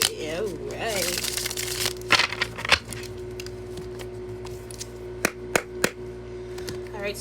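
Tarot cards being shuffled by hand, a dense riffling burst near the start followed by a few sharp, isolated taps and snaps against a steady low hum.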